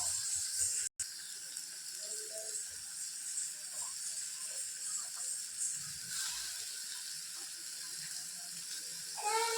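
Tap water runs into a sink while peas are rinsed, a steady faint rushing stream with a brief cut near the start and some clinking of the pot toward the end.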